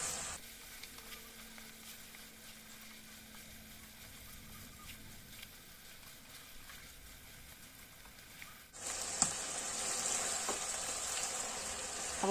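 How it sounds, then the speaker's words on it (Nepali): Chicken fries in a pan over high gas, a soft steady sizzle that jumps to a brighter, louder crackle partway through and keeps hissing to the end. "अब फ्राई नहुन्जेलसम्म हामीले चाहिँ यसरी नै ग्यासलाई हाई राखे नै फ्राई गरिरहनु पर्छ"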